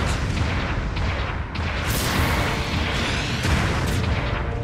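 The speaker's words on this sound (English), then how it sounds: "Long range supporting fire incoming." Long-range supporting artillery fire in Gundam Battle Operation 2, a dense continuous barrage of booms and blasts with several sharper bursts near the two- and four-second marks, loud and sustained throughout without a break.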